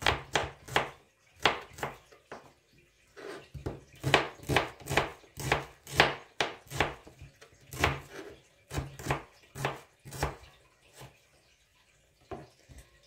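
Onion being chopped on a board with a knife: quick, close, regular thuds in steady runs with brief pauses, clear and alone.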